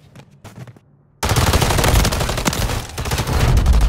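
After a few faint pops, sustained loud BP50 assault rifle fire from Call of Duty MW3 starts abruptly, a dense rapid automatic burst running continuously with a slight dip near the end.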